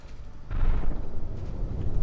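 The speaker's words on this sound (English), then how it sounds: "We do have an immediate explosion" A deep rumbling blast rolls out in a battleship naval combat game, a sudden loud boom at about half a second followed by a sustained low roar, with no talk.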